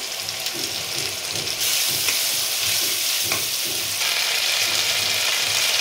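Onion, ginger and garlic paste sizzling loudly in hot oil for a prawn malai curry, a dense continuous hiss with rhythmic stirring scrapes beneath it.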